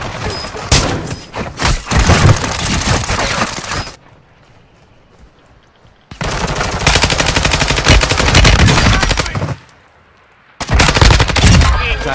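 Loud bursts of enemy gunfire and automatic weapons fire in the shooter game Warzone 2.0, dense rattling volleys with two quiet pauses between them.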